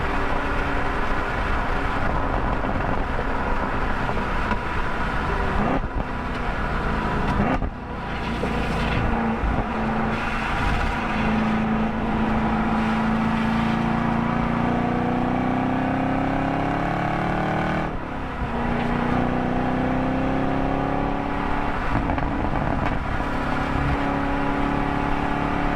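A race car at Road Atlanta drones through its engine as it slows on the track, the pitch sliding down and back up with gear changes, loud and continuous inside the cabin with no voices.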